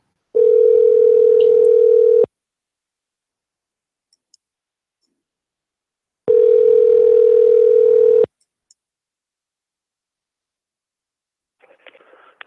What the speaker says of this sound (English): Let's give him a call where I call back here.